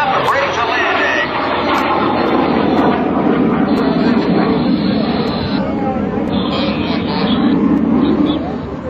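An L-29 Delphin jet trainer pitches up to break for landing at an airshow, giving a loud, sustained engine roar with a shifting high whine. Voices sound faintly underneath.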